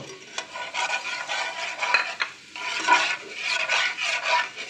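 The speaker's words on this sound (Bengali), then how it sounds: "এখন আমি এর মধ্যে গরম মশলা এবং জিরা ফোড়ন দিব।" Garam masala and cumin seeds tempering in hot oil for mutton biryani, with a steady broad sizzle and a few clinks of a utensil stirring against the pan, close and fairly loud, no talking.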